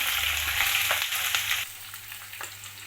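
Onion and tomato frying in a pan for semiya upma, a strong sizzle that softens partway through, with occasional stirring scrapes.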